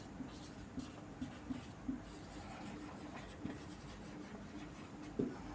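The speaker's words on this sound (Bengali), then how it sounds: "লিখে দিলাম" During a grammar lesson, a pen or marker writes in short strokes and taps, faint and close against a low steady background hum, with no talking.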